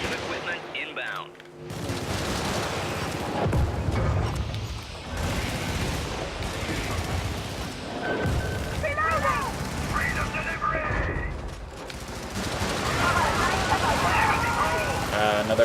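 An automated turret in a video game fires in rapid, sustained bursts, mixed with explosions and mechanical game effects, loud and continuous over most of the stretch after a brief quieter opening.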